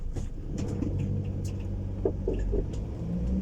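2009 Citroen Jumper motorhome with 250,000 km on the clock driving, a steady low engine rumble heard from inside the cabin with light rattles over it.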